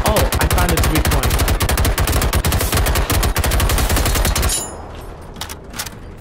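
Rapid automatic gunfire from a video game, loud and dense bursts of rattling shots for about four seconds, then cutting off to quieter scattered sounds.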